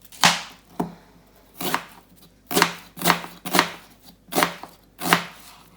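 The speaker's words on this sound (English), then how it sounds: "The onion I'm just slicing up as well." A knife slices through an onion on a cutting board in a home kitchen, cutting thin rings; seven crisp, close chops fall in an uneven rhythm with quiet pauses between them, no voices.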